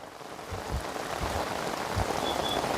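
Heavy rain pours steadily during a flood in Jaffna, Sri Lanka, a dense close hiss of drops on surfaces with faint low rumbles underneath.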